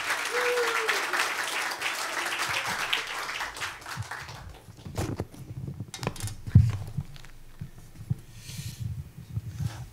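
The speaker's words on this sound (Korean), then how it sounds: "우리 이영주 집사님 나오실 때 박수로 좀 환영하시겠습니다" A church congregation applauds as a deacon is welcomed to the stage at a church's second anniversary service. The clapping is steady and moderate for about four seconds, then fades into quiet room noise with shuffling and light handling sounds.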